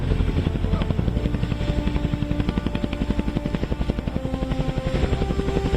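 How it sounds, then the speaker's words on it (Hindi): An Indian Air Force Apache attack helicopter flies low near a high-altitude landing ground in Ladakh, its rotor giving a loud, steady, rapid thumping throb throughout. "भारतीय वायुसेना के अपाचे लड़ाकू हेलीकॉप्टर ने चीन सीमा से महज 25 किलोमीटर दूर दुनिया के सबसे ऊंचे लैंडिंग ग्राउंड में से एक लद्दाख में अपनी कम उड़ान संचालन क्षमता का प्रदर्शन किया।"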